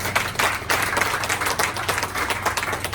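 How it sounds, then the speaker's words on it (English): Dense, steady audience applause for Bingle Crane at a corporate gathering, filling the whole stretch at a constant, fairly loud level with no pauses. "So I want to give them another round of applause"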